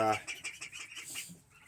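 A rapid series of thin, high peeping chirps from a lone chick, close and moderately loud, with a brief lower voice at the start.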